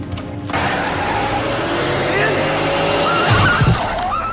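A car accelerates hard with a screech of tyres as it pulls away, a loud, close engine roar lasting several seconds, with a brief heavier thump near the end, in a scene from the Thai horror film Alone (2007).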